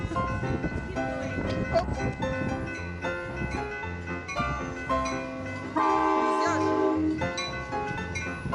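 A double-decker train rolls past with a heavy clattering rumble while a loud horn blares near the end. Voices can be heard faintly underneath.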